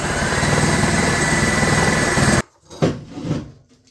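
A loud, harsh grinding drone of a cordless core drill boring steadily into a wall for over two seconds, then it cuts off, leaving a few knocks and rustles.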